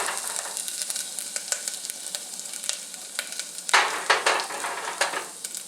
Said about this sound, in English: Put it on a lower flame, and just let it fry a little bit.